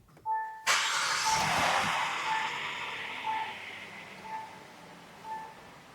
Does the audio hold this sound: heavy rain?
no